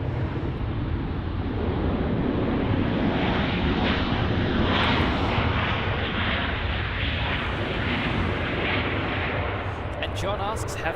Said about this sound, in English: This is going to be Southwest flight WN168 from Baltimore.